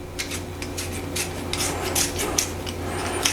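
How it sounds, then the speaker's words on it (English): A potato being peeled with a peeler, a series of quick scraping strokes at an uneven rhythm, close and fairly loud over a low background hum, with nobody speaking. "we're just going to whip off the skin down to the potato"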